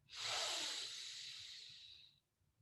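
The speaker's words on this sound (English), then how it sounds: "And take a deep breath." A single long, airy breath drawn in during a yoga breathing exercise, a steady hiss lasting about two seconds that fades out, close and fairly quiet with no talking.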